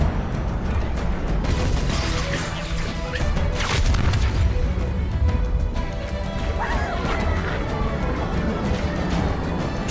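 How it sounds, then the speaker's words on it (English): Halo grunts shoot haphazardly amid dense, chaotic combat noise, with crashing impacts and bursts of fire piling up continuously over about ten seconds. "the grunts kind of firing haphazardly"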